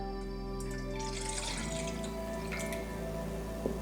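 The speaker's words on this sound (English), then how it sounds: "Pour in our buttermilk." Buttermilk poured over garlic, chili and jalapeno powders for a fried chicken marinade, a soft close liquid pour under a steady electrical hum.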